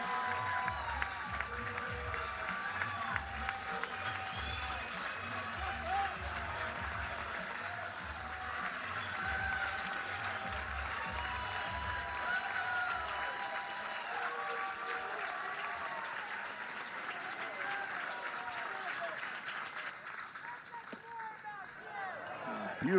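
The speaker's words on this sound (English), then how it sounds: "nice applause for Aryan Patel, who doubled his last trip" A baseball crowd at an Oklahoma Sooners versus Citadel Bulldogs game applauds batter Aryan Patel, a long, fairly distant wash of clapping with soft murmur and faint voices throughout.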